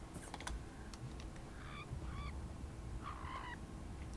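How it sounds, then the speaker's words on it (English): Birds in the game Elder Scrolls Online give a few short squealing, honking calls in two or three brief bursts over a steady hiss of ambient game noise, with scattered keyboard clicks and no talk. "Some sort of birds squealing away."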